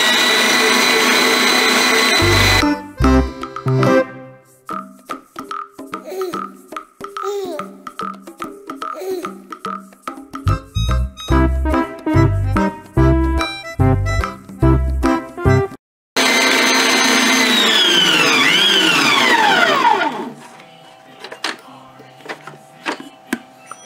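An electric mixer whips cream into butter with bursts of loud whirring motor noise, close by and mixed with clattering and other changing sounds, pausing briefly before the whirring resumes.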